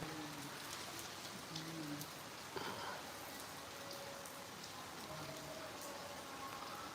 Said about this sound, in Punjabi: ਹੁਣ ਦੇਖੋ ਬਾਰਿਸ਼ ਸਟਾਰਟ ਹੋ ਗਈ ਹੈ